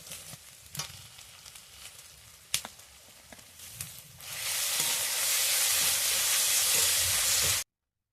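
Garlic paste hitting hot oil in a pan, bursting into a loud, steady sizzle after a few scattered clinks and taps of a utensil, then frying continuously until it cuts off.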